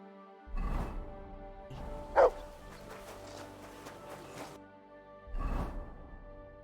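A dog in the medieval video game Kingdom Come: Deliverance II gives a few short barks and yips, with quieter whimpering between them, heard close and clear over low game ambience.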